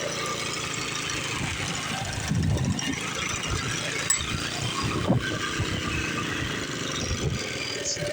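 A Jari mower engine with its governor bypassed runs steadily close by, a loud mid-pitched chugging drone with slight uneven knocks throughout.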